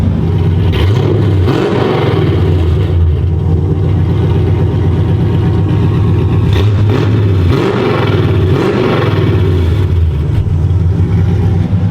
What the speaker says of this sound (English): do some revs